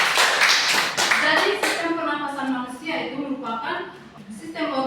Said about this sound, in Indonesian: Mari kita tepuk tangan untuk anak Yura.